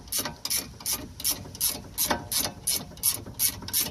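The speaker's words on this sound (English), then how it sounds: "So I can get a little 15 ratcheting wrench for now." A 15 mm ratcheting wrench tightens a sway bar link on a Honda Civic, giving a steady series of evenly spaced, close, crisp ratchet clicks, about ten strokes in quick rhythm.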